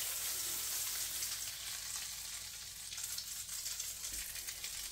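French toast fries in butter in a pan with a steady close sizzle and soft crackle that holds at an even level throughout, with no voices.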